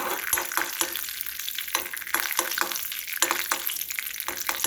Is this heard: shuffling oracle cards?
no